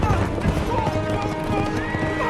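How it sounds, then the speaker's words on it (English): A horse's hooves clip-clop in a quick steady rhythm while the animal neighs, close and loud, with a voice talking over it. "We're not leaving that horse behind, dude."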